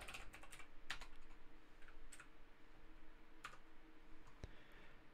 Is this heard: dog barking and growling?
no